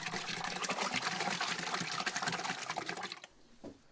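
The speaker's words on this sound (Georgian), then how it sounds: "წყალს ამატებს და ბიოგაზის დანადგარში ასხამს" Water mixed with cow manure is poured into a biogas digester, making a continuous gushing, splashing pour that stops abruptly near the end, leaving a quiet trickle.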